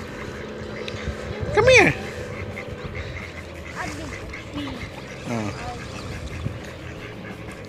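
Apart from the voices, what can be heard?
ducks quacking at a lake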